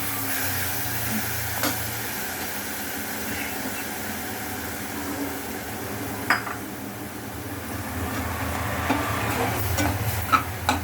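Ginger garlic paste sautéing with onions in a pan for a crab gravy, a soft continuous sizzle with occasional clinks of a spoon against the pan.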